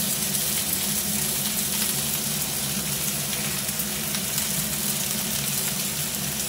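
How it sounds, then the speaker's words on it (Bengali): Onions, garlic and vegetables fry for pasta in a pan, giving a steady, close sizzle that stays even throughout with no talking. "পেঁয়াজ আর রসুনটা ভালো করে ভাজা ভাজা করে নিয়ে এবার অল্প অল্প করে পাস্তা দিয়ে দেবো"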